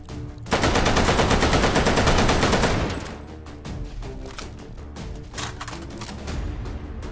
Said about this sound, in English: The Bren gun is an iconic, like, British light machine gun